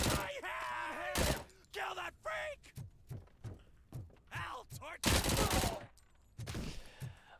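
Machine gun fire in the video game RoboCop Rogue City, loud bursts of rapid shots separated by short gaps, mixed with voices and thuds.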